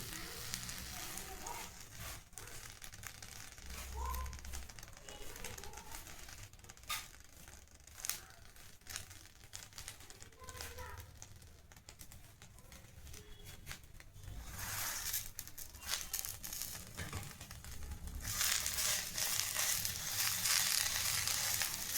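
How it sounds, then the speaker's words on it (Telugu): Two cups of dried curry leaves fry in a pan, giving a quiet, steady sizzle with crackles and scraping that grow louder toward the end, no talking. "లోపల తడి ఏదన్నా తడి అంతా పూర్తిగా పోయేంత వరకు మనం వేయించుకుంటూ ఉండాలి."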